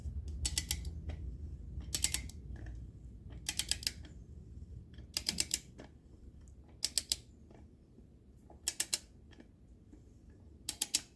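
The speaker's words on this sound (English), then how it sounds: "I've got the torque wrench set to 20 foot-pounds." Torque wrench tightening intake manifold bolts on a 1972 Corvette L48 small-block Chevy, set to 20 foot-pounds: short bursts of rapid ratchet clicks repeat at intervals over a low background rumble.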